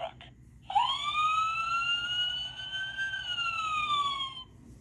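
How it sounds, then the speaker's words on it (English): A fire truck siren begins after a short clipped burst and holds one long rising-then-falling wail with clear harmonics, sounding loud and close before it fades out. "Fire truck."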